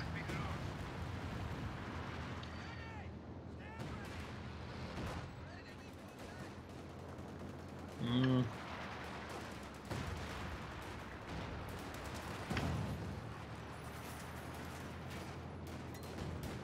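Machine gun fire and explosions rattle through a Company of Heroes 2 World War II strategy battle, with continuous distant-sounding gunfire and blasts under steady commentary talk.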